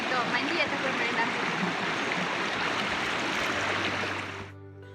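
A forest river on a hiking route flows with a constant rushing, gurgling wash of water close by. It cuts off near the end, leaving a low hum.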